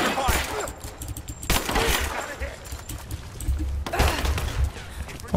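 Gunfire in the Rise of the Tomb Raider video game during a firefight in a flooded archive, with repeated bursts of shots over a rumbling game soundtrack and a voice calling out between them.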